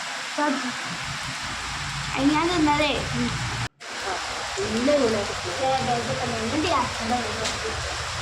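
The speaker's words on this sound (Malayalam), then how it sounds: "നല്ല മഴ കേട്ടോ പുറത്ത് ഇവിടെ നിന്ന് രണ്ട് ദിവസമായിട്ട് നല്ല മഴ ഉണ്ട്" Steady rain hisses in the background while someone talks over it nearby.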